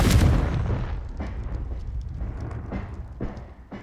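A Confringo spell explosion in Hogwarts Legacy lands with a heavy boom at the start, then fades into rumbling debris and a few softer thuds and crackles, with no voices.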